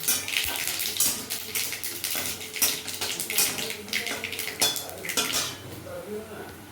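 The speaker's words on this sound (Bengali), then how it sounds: "এবার ওই তেলের মধ্যে শুকনো লঙ্কা, কালো জিরে আর সর্ষে ফোড়ন দিচ্ছি।" Dried chilli, nigella and mustard seeds sizzle in hot oil for a prawn and taro-stem dish, giving a loud, steady crackling hiss with occasional clinks of a utensil against the pan.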